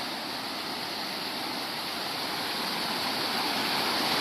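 Water rushes out hard in a steady, loud, unbroken roar that builds slightly toward the end, close by and heard alone with no voices.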